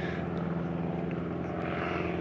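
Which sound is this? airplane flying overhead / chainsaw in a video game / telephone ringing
airplane flying overhead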